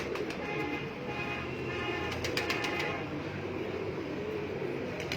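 Pigeons on a rooftop coo softly and repeatedly over a dull outdoor background hum, with faint distant traffic and a few brief clicks.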